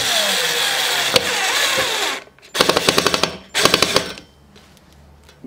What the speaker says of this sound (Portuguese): Colocar aqui os parafusos de volta.